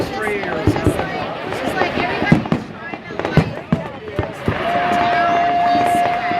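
Fireworks at a riverside show pop and crackle in a series of sharp bangs at middle distance, while people chat nearby.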